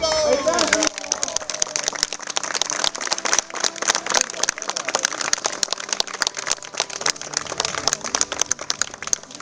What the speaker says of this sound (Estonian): Ja ongi tagasi aplaus!